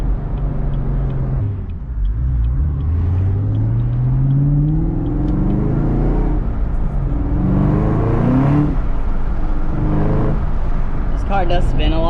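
A 2019 Camaro ZL1 1LE engine with stock exhaust rumbles steadily while driving, its pitch rising and falling as it accelerates and shifts, with some talking mixed in over the drone.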